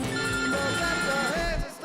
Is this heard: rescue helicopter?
no